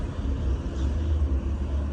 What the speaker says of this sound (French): Putain, il a écrasé les freins.